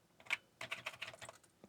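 Keys on an Atari 800XL keyboard with worn, binding AWC Type 2 switches clack as one is pressed, a lone click followed by a rapid run of a dozen close, crisp taps.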